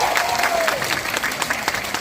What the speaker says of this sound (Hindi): एक बार जोरदार तालियां आप लोगों के लिए